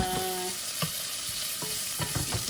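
Onions hit a hot pan for a Filipino kinamatisang pampano dish, giving a steady sizzle with clinks and stirring scrapes throughout, fairly close and moderately loud, no talk.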